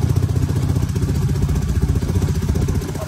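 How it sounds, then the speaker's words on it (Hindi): A motorcycle engine chugs at a steady low rumble with rhythmic clatter while climbing the hill road up to Nahargarh Fort in Jaipur, close and continuous with no talk. "हम बाइक लेकर चढ़ चुके हैं"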